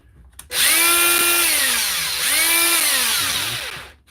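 A cordless power tool with freshly repaired brushes whirs up sharply to a loud, high whine, dips and surges again as the motor speed shifts, then winds down and cuts off.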